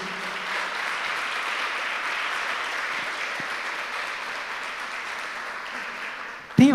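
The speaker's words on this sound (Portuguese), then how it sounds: "Aplauda Jesus." A church congregation applauds steadily for several seconds during a worship service, a dense, even wash of clapping that fades slightly before a brief voice cuts in at the end.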